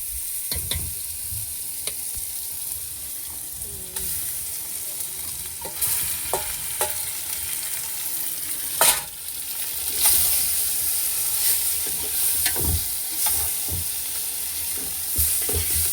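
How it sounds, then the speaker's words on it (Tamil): Pieces of fish frying and being stirred into an onion-tomato masala while cooking out at sea, a steady close sizzle punctuated by spoon scrapes and clinks, loud and continuous with no talking. "வெங்காயம் தக்காளி எல்லாம் மசஞ்சு வந்ததுக்கப்புறம் நம்ம அப்படியே மீனை இறக்கிடுவோம் உள்ள"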